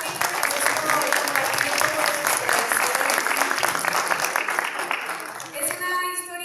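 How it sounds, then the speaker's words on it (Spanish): An audience at a book presentation breaks into full, sustained applause, many hands clapping steadily before it thins out near the end as a voice begins to speak. "Creo que un aplauso."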